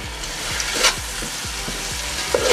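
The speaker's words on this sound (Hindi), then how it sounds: "सारी चीज़ों को टमाटर के साथ में बहुत अच्छे से भून लेंगे" Spices and tomatoes fry in a pan with a steady sizzle while a spoon stirs in repeated scraping strokes at a regular rhythm, close and fairly loud.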